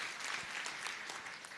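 A church congregation applauds together during a sermon, a steady dense wash of clapping that stays loud and even from start to finish, with no speech over it.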